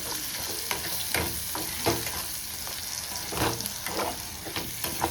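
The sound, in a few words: stirring chicken cafreal with turmeric, sizzling in pan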